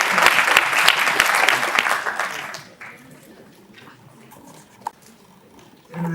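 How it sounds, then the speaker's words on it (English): Audience clapping for a speaker at an engineering students' conference, loud and dense for about two and a half seconds before fading out, then near-quiet room noise with a single sharp knock. "You can clap for him."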